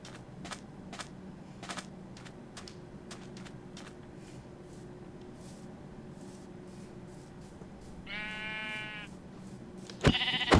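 Sheep bleat in the Minecraft game world, a harmonic bleat around the eighth second rising over a background of clicks, soft taps and a steady low hum, followed by a sharp louder burst at the end.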